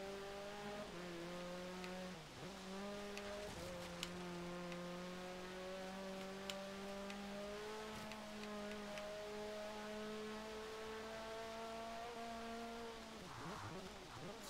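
A race car engine in Forza Horizon 3 holds a high, steady drone through long gears, with brief dips at each shift and rising pitch as it nears the top of its gearing.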